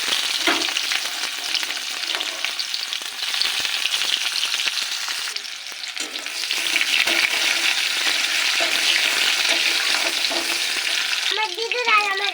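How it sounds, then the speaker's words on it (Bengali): Chopped onions fry in hot oil with cumin seeds, a steady loud sizzle with stirring scrapes running throughout, close up and without talk. "পেঁয়াজটা ভেজে নিয়েছি"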